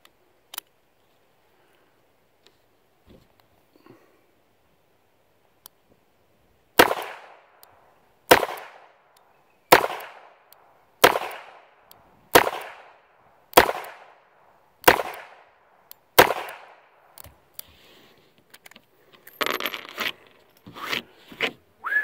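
A Smith & Wesson 43C .22 LR J-frame revolver with a 2-inch barrel, fired outdoors: after a few faint early pops, about eight sharp, crisp cracks come at a steady, unhurried pace, each decaying quickly, then a looser cluster of reports.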